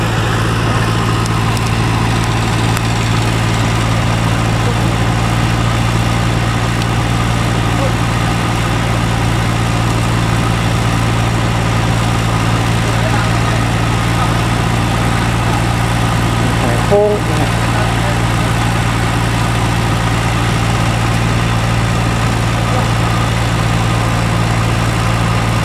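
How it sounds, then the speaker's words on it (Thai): Steady drone of a water pump engine running at a pond dredging site in Thailand, a constant loud low hum with no breaks, close by and unchanging throughout. "มีการสูบน้ำเตรียมขุดต่อนะ"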